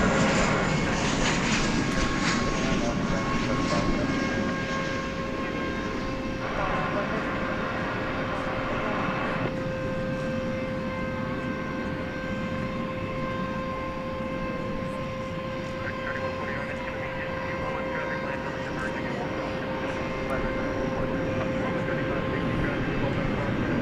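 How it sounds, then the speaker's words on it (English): An American Airlines Boeing 737-800 arriving at DFW at night from Omaha makes a steady, moderate engine rumble with sustained whining tones, somewhat distant, holding evenly throughout. "We had there American Flight 2270 arriving from Omaha, Nebraska, 737-800."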